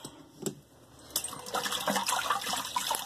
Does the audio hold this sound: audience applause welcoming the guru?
no